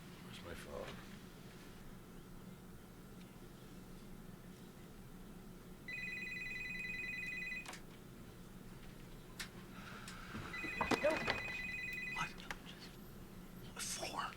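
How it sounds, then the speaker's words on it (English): A telephone rings in a TV drama scene, giving short bursts of electronic ringtone, with a pause between them and soft background noise and voices. "I'm gonna call Saul."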